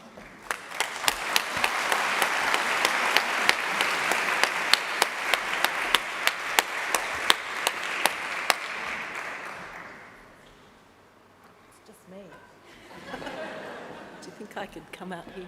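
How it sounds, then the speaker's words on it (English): A university thesis competition audience applauds the judges with a sustained round of dense clapping and a few sharp claps on top, scattered laughter mixed in, then dying away as chatter and a voice take over. "they deserve a huge round of applause for what they've done"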